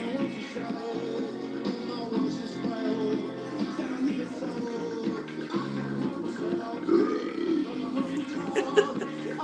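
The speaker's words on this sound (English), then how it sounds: "You can't just burp in the middle of a song like that." A burp dropped into the middle of an 80s song, buried in a dense, steady mix of music that runs throughout without pause.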